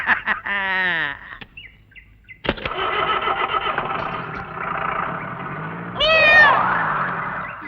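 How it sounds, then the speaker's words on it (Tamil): A cat meows twice, a clear close cry early on and another rising, wavering meow later, over a running car engine idling and rumbling in an old Tamil film scene. "முதலாளி பூனை குறுக்க போகுது"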